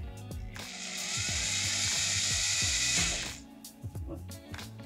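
An electric drill whirs steadily for about two seconds while coiling wire, a high mechanical whine with gear rattle, then winds down, with clicks and handling noises before and after.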